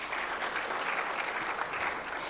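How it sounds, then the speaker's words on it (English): Audience applause at a microfinance technology summit, a steady wash of many hands clapping at moderate distance, fairly quiet and sustained without voices. "May we all please give them a round of applause."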